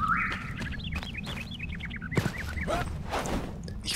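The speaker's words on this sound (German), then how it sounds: "Die Vögel im Hintergrund." Birds in the game Enshrouded chirp in a quick repeating series of short tweets over a low ambient hum, with a few rustling bursts mixed in, fairly close and clear.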